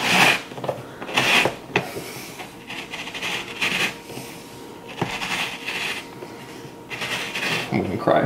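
A hole is cut by hand in an interior house wall, producing repeated rough scraping and sawing strokes in uneven bursts at close range. Quiet talk comes between the strokes.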